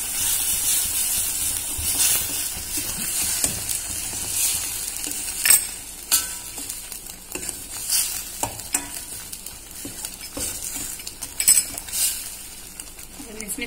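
Masala with turmeric powder and garam masala sizzling and frying in a pan for a Punjabi-style soya chunk gravy, a steady hiss broken by scraping stirs, with speech at times.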